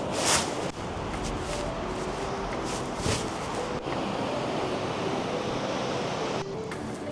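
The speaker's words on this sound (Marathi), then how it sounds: "माझ्या पाठीमागच्या समुद्राचा आवाज येतो आहे" Ocean surf rolls steadily onto the beach at Carmel-by-the-Sea on a foggy day, a continuous washing roar mixed with gusty wind buffeting the microphone.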